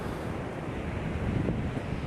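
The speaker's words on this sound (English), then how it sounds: "Just checking out the beach here." Atlantic Ocean surf rolls onto an Outer Banks beach in a steady, loud wash of breaking waves, mixed with heavy wind buffeting the microphone; no voices.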